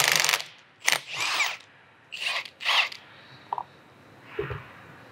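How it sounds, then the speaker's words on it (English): A half-inch impact wrench with a 3/4 inch socket removes the handle nut on a transport tank rear valve, giving several short, loud, buzzing bursts of uneven length separated by brief pauses, with no talking. "half inch impact, 3/4 inch socket. Remove the nut for the handle"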